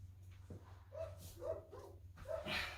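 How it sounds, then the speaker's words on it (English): A few short dog barks, fairly close but not loud, come in quick succession over a low background hum. "Don't mind my dogs barking."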